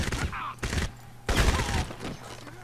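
Weapon fire from the hip in the video game Crysis: several short bursts of gunfire separated by brief gaps, loud and close, mixed with other game effects.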